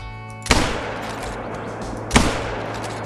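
Two sharp rifle shots at a deer in the hunting game Call of the Wild, loud and close, spaced well apart, each followed by a rolling echo that fades into quiet ambience.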